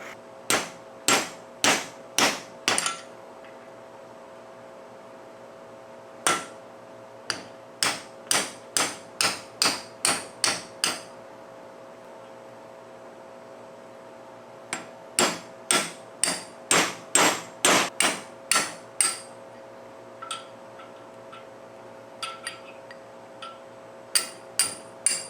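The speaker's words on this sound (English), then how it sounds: "We're now back to the vise and the punch." Steel hammer striking a punch held in a vise to drive out an old tool handle, sharp metallic blows in rapid bursts of several strikes with short pauses, close and loud, no talk.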